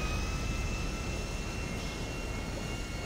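A steady, loud roar from a jet aircraft engine in the GTA video game holds unbroken and broadband throughout, with no voices over it.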